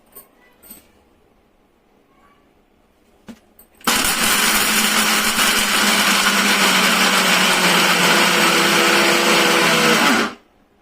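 A mixer grinder grinds almonds into badam powder in a home kitchen. After a few seconds of near quiet with small clicks, it roars into a loud, steady whirring grind for about six seconds, then cuts off abruptly.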